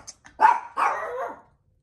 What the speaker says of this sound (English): You guys, stop barking.